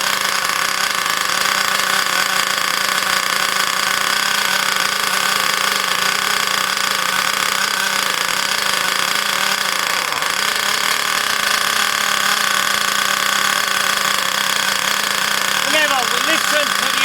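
A nitro BigBlock engine in an Ansmann Virus 2.0 RC car being run in, buzzing steadily and loudly at a constant high idle for the whole stretch, with a brief shift in pitch near the end.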